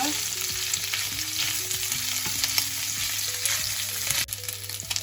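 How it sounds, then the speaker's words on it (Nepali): Chicken gizzards fry in hot oil in a pan, giving a steady, close sizzle with occasional stirring scrapes throughout, and no voices. "एकछिन पाङ्ग्रालाई भुट्नुपर्छ"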